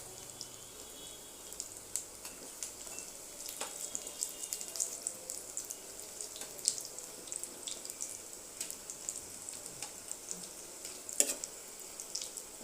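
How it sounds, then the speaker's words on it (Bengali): Food frying in oil in a pan while iftar snacks such as potato and egg chops are prepared at home, giving a faint, steady crackling sizzle with scattered small pops throughout and no talk. "এক পিঠ হয়ে গেছে, লাল লাল করে ভেজে নেব।"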